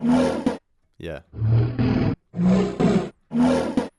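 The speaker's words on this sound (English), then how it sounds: "So that this kind of bear growling sound" A synthesized bass preset performs a series of four or five deep, rough, bear-like growls in short bursts with brief pauses between them.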